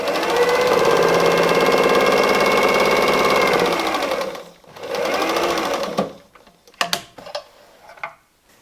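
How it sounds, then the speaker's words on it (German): Sewing machine stitching fabric for an origami Advent calendar: a loud, fast mechanical whirring run lasting several seconds, a brief pause, another short burst, then clicks and handling sounds. "wir nähen das unter der Maschine fest"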